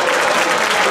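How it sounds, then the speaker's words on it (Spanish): Audience applause at a ring-toss contest (concurso de anillas) in Cervera del Río Alhama, La Rioja: one second of steady, dense clapping from a crowd, loud and continuous with no talk over it. "Gracias por los aplausos, Cervera"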